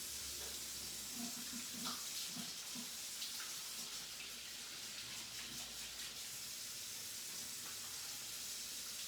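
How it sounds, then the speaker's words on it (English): Water from a running kitchen tap splashes as hands are washed after baking prep, a steady faint hiss with some soft clinks early on. "And we wash our hands."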